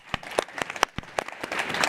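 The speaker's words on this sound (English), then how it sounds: "how about another round of applause for Chrystia Freeland?" Applause for Chrystia Freeland at a panel event on investing in women for sustainable peace, a small group clapping in sharp, fairly sparse individual claps over a light background wash.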